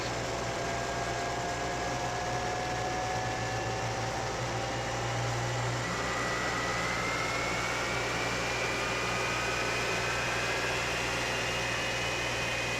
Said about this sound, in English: The air boss is called to start engines.